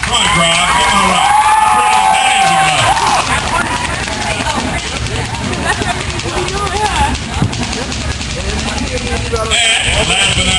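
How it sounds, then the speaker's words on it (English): A crowd at a school engine contest cheers and hurrahs loudly, with whoops and shouts swelling and fading over several seconds and a voice talking among the noise. "Come on, crowd, give a hurrah."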